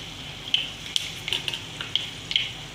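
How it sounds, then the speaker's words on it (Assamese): Five-spice and a dried chilli hit hot fish-frying oil in a wok, giving a steady close sizzle broken by several sharp crackles and spits. "কেৰাহীত মাছ ভজা তেলতে মই এয়া 5 ফোৰণ দি দিছোঁ, আধা চামুচ শুকান জলকীয়া এটা দিছোঁ"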